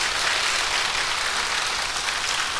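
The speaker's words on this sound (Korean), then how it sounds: "일단 아브라함 위해서 박수 한번 쳐줘봐." Broad, steady applause from a church lecture audience, a dense wash of many hands clapping together, continuous and even throughout with no talk over it.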